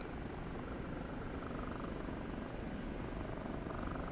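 An OH-58D Kiowa helicopter flies in the DCS combat flight simulator game, its rotor and turbine drone holding steady and loud throughout with no speech.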